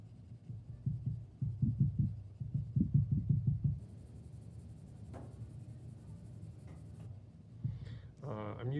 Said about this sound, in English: I can now switch to my regular pencil and start to overlap and use cross-hatching to start to soften up that shadow